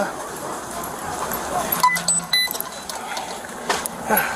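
A dog yips and whimpers in short bursts close by, with scuffling and rustling noises around it.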